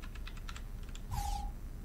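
Computer keyboard keys are pressed one at a time during play of an Assassin's Creed II walkthrough, a handful of separate light clicks spaced irregularly over a low background hum, followed by a brief game tone.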